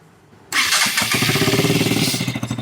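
A KTM RC BS6 motorcycle on its stock exhaust cranks and fires up close by, settling into a loud, rough idle with a quick pulsing beat that stays strong to the end.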